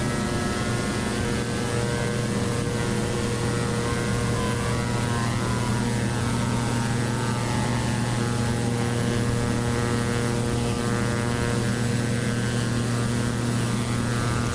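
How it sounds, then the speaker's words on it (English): A simulated Carenado C90B King Air turboprop engine in Prepar3D hums continuously at high power, loud and unchanging throughout, with no voices. "The sounds effects of the engine are excellent."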